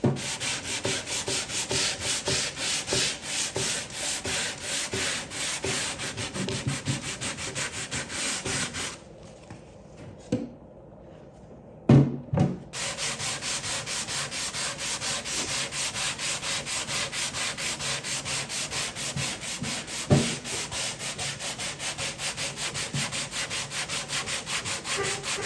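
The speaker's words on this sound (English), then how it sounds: "I use a Bondo scraper with sandpaper wrapped around it." A mahogany dresser is hand-sanded with a Bondo scraper wrapped in sandpaper, giving a steady, close, continuous rasping rub with quick strokes, broken once by a brief pause with a few knocks.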